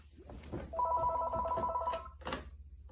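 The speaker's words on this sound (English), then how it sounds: "I don't know why my landline always tends to ring when these videos are going on" A landline telephone rings once in a rapid trilling electronic burst lasting over a second, heard indoors at moderate distance with faint room noise around it.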